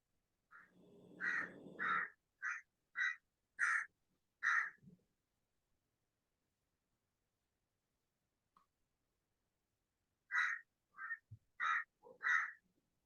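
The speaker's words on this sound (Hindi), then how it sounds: "इसके बैकग्राउंड में से कौवे की आवाज आ रही है।" Crows caw in two bursts, about nine loud harsh calls in a row, a long pause, then five more; a short low rumble accompanies the first calls.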